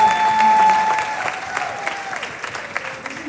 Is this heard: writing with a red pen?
no